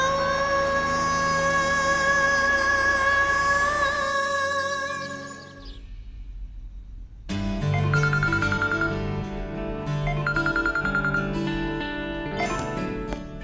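A phone rings late at night, with a loud, steady electronic ringtone that stops briefly and then starts again, carrying on continuously with no speech over it.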